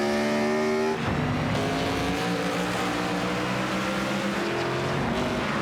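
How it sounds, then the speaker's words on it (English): Stock race cars roar through a lap at the Montreal track, engines loud and continuous with sustained wheel spin, rising and falling whine of several cars revving close by with no talk. "Wheel spin for both those cars, not making life easy."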